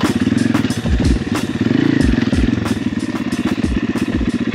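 A dirt bike out in the bush, its engine revving hard during a bump start, a loud close buzzing roar that rises and falls in repeated throttle blips, with rattles and pops over it and no talking.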